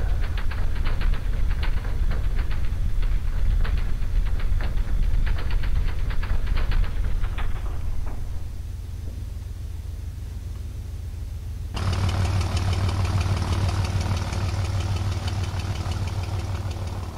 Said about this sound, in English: I guess we'll just do our run-up on the runway.